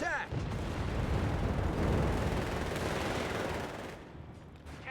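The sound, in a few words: grenade explosion in video game Company of Heroes 3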